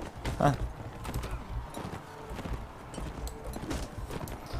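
Horse hooves clip-clop in a Mount & Blade Warband battle, quick uneven beats close by, mixed with game noise while someone talks over them.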